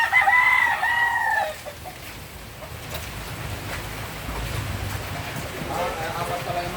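A rooster crows once near the start, close and clear, followed by a low rumbling backdrop with faint voices.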